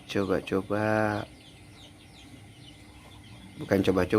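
Hens and young chicks in a coop cluck and peep in a few short bursts at the start and end of the clip, fairly close, with quieter rustling in between.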